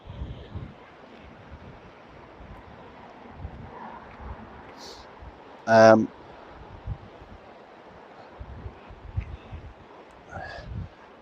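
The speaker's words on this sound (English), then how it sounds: "Look at the wind, what it's doing." Wind blowing at a beach, a low rumbling gusting noise against the microphone with a few louder bursts, heard under scattered speech.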